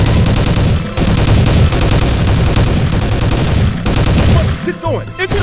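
Sniper gunfire in the Soldier of Fortune II: Double Helix game, loud dense bursts of shots and rapid fusillades close by, sustained for several seconds before a brief break with a sharp whine near the end.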